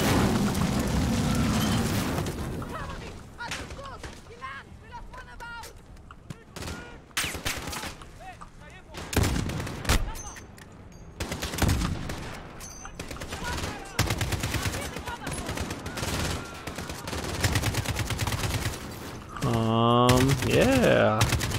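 Video game gunfire from Modern Warfare story mode: dense bursts of shots and rapid automatic fire, loud and close, with short lulls between volleys and game sounds throughout.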